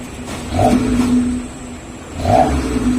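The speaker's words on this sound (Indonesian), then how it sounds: "Coba cek suara di RPM bawah." A car fitted with a new aftermarket exhaust revs at low RPM, giving two loud, deep swells of engine rumble separated by a steady idle, close by.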